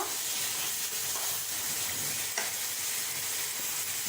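Chicken malai curry with chopped almonds sautés in a pan, a soft, even sizzle with light stirring and a single faint knock midway, heard alone without talk.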